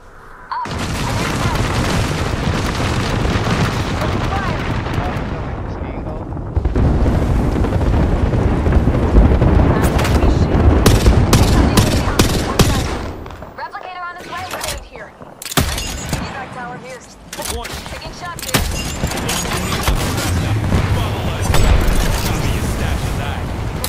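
Rapid bursts of gunfire from the video game Apex Legends, loud and dense with sharp repeated shots and booming impacts, broken by brief pauses, with a player talking over the action.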